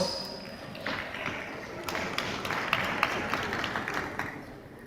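Scattered audience applause at a congress, uneven claps and taps from a modest crowd building to a moderate patter, with a voice speaking underneath.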